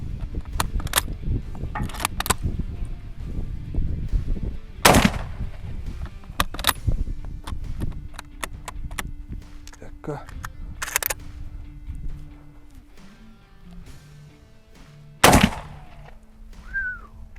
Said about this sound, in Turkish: Şimdi evet bir atış gerçekleştirelim bakalım.